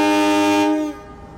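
A train horn sounds on the departing Blora-Sura train at Surabaya Pasar Turi station, one loud, sustained toot that fades away after about a second.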